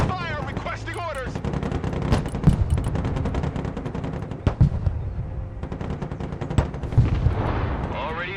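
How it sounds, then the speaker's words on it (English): In the game Broken Arrow, dense battlefield gunfire crackles, with rapid bursts and heavier booms close by, mixed with radio chatter from units. "Weapons team under fire, requesting orders"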